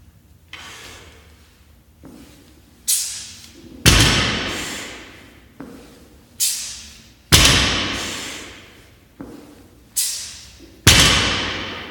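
Loaded barbell dropping to the floor between dead stop deadlift reps, a series of about nine heavy, resonant thuds spaced roughly a second apart, each ringing briefly before fading, close and loud.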